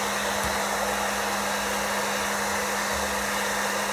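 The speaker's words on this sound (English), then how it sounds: "Put the blow dryer back on warm setting." Hair dryer running steadily on its warm setting, a loud, continuous broadband whoosh with a faint motor hum beneath, close up and unbroken, no talking.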